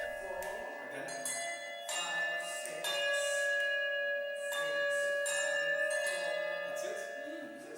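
Handbells rung to mimic large church bells, struck in repeated overlapping peals with long ringing tones that layer and sustain, close and fairly loud, with faint voices in the background.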